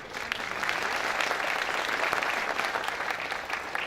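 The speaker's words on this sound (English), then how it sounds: "Let's just give them a quick round of applause, please." A crowd gives a quick round of applause for councilmen at an announcement about a new switching station. The clapping is dense and continuous for about four seconds and stays fairly loud with no clear voices on top.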